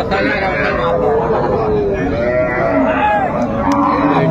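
Cattle lowing at Raniganj haat in Dinajpur, a livestock market where cows with calves are sold: several overlapping moos, near and far, ring out over a steady crowd hubbub and close talk.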